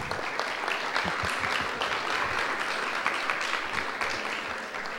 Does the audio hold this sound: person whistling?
no